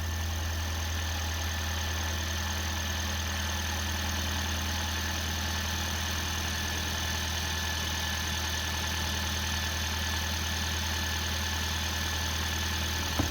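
A Toyota hybrid car engine with intermittent overheating idles steadily and evenly throughout, a constant low hum with a faint mechanical whine, no voices.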